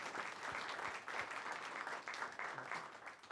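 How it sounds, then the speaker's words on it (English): An audience at a town hall meeting in a city hall applauds steadily and evenly. The clapping stays dense and moderately loud for its whole length, with no voices over it. "let's give them a round of applause for"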